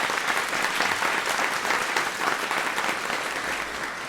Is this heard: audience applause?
yes